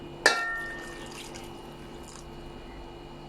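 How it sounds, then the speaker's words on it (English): Water poured into a pan of mince curry spiced with ginger-garlic paste, turmeric and chili, a brief splash at the start followed by a quiet trickle and faint drips, close by in a home kitchen. "I will add some water, about half a glass of water."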